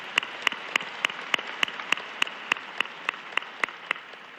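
Sparse, regular hand claps ring out about every quarter second over a hissy crowd-like background, a thin applause with a steady rhythm.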